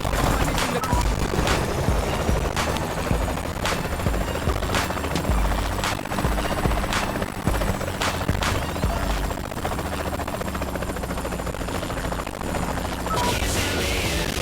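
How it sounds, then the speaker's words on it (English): A helicopter in a video game gives a loud, steady rotor thump with a high whine throughout, while sharp bangs and gunfire-like cracks burst in at irregular moments. "Where's that guy in the helicopter going?"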